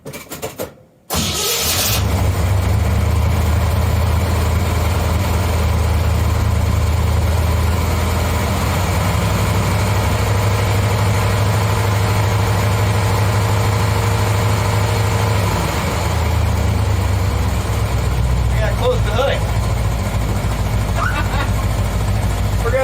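A 1956 Chevrolet's engine cranks briefly and fires right up, then settles into a steady, loud low rumbling idle that continues for about twenty seconds before easing slightly near the end, with faint voices in the background.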